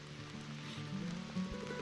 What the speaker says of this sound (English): Rain sounds beautiful.